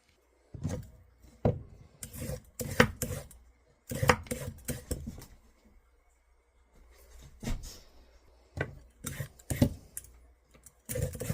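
Carrots being peeled for a vegan carrot cake, a run of sharp scraping strokes, short and close, arriving in clusters with brief pauses.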